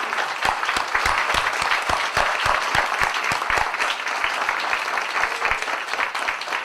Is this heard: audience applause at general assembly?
yes